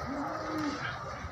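Large cattle at the Muntilan livestock market, ahead of Eid al-Fitr 2019, let out a single drawn-out low moo over a busy background of crowd noise.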